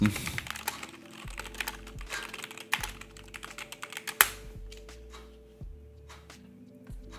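Rapid clattering keystrokes on a computer keyboard, bursts of close, crisp clicks with brief pauses and a few harder taps, while someone talks faintly in places.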